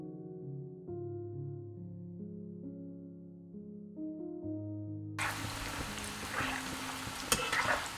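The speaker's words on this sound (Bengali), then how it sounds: "আমি এবার চিপসগুলো ভাজবো।" Raw plantain chips coated in salt, turmeric and oil hit hot oil over high heat. A bright, crackling sizzle suddenly starts about two-thirds through, after a stretch of soft tonal music, and carries on to the end.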